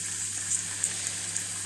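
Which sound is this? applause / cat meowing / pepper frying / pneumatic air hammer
pepper frying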